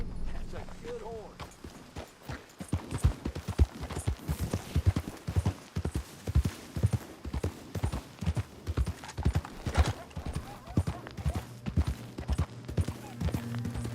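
Horse hooves clip-clop in Red Dead Redemption 2, a steady trotting rhythm of close, distinct hoofbeats that quickens midway, with a brief whinny early on and low game ambience underneath.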